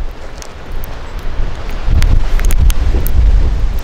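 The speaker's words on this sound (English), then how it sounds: "It's a bit windy, a bit chilly, very cold." Steady wind buffeting the microphone on a rocky outcrop in Bunya Mountains National Park, a low rumbling roar that grows stronger partway through, with faint rustling on top.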